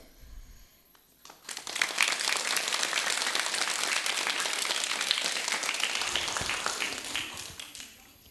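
Audience applause after a child's poem recital at a primary school storytelling event, a dense wash of clapping that swells in after a quiet start and holds steady and loud for several seconds before tapering slightly.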